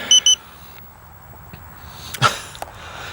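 A battery checker on an RC plane gives two quick high beeps at the start, followed by quiet handling clicks and faint noise.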